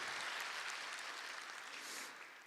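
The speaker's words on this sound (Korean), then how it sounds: "하나님께 영광의 박수 올려드리겠습니다." Congregation applause during a Sunday morning church service, a full, even patter of many hands that holds steady and then tapers off slightly toward the end.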